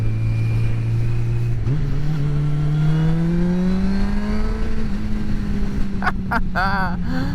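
A motorcycle engine revs and drones steadily, rising in pitch, with a burst of sharp exhaust crackles and pops near the end.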